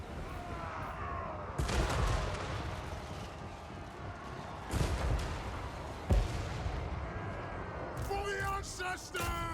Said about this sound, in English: I'm actually gonna turn my cannon onto that corpse cart instead.